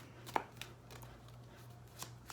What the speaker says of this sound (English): we will shuffle your cards